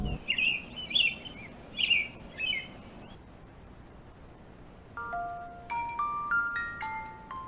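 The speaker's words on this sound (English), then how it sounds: "you hear the birds around you" A few bright bird chirps from a video game repeat in quick bursts, then give way to a soft chiming, bell-like lullaby melody; clean and synthetic-sounding, with no voices.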